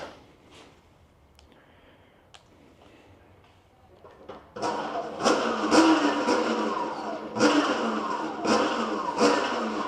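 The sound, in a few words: Anyland Rev Pro electric bike throttle test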